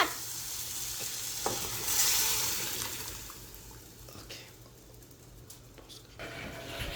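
Dal goes into a hot pan and is stirred, giving a close sizzle with scraping, stirring motions that ease off and pick up again, while a voice speaks briefly.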